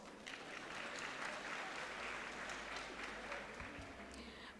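Warm, steady applause from a graduation ceremony audience in a large hall, fairly faint and distant, continuous with a low hum and a brief voice near the end.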